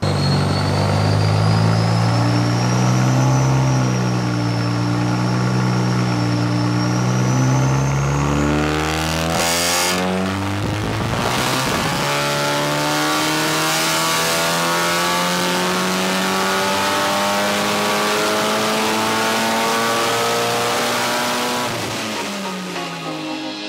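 A forged Audi S3 8V runs on a dyno, its engine loud and close. It climbs in a long rising rev, cuts off sharply, then builds through a second sustained pull with droning harmonics before easing at the end.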